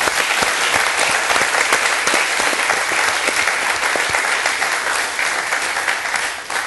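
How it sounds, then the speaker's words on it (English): Audience applause welcoming a priest onto stage at a charity event, a dense, loud, sustained clapping from a large crowd that carries steadily throughout and eases slightly toward the end. "With a round of applause, let's welcome Father Andrew Campbell."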